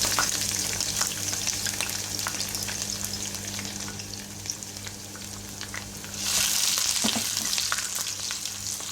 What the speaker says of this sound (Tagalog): maglalagay tayo ng maraming oil para ipiprito muna natin yung ating garlic